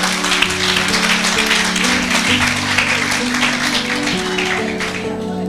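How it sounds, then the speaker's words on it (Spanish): A church congregation applauds together during a sermon, a steady dense wash of clapping heard up close, with some voices mixed in underneath. "Denle un aplauso al Señor."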